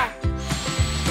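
A power drill whirs with a steady high motor whine, its pitch dipping and surging in short bursts as it bites.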